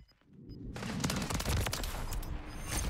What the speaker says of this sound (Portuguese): Oxi, rajadaça.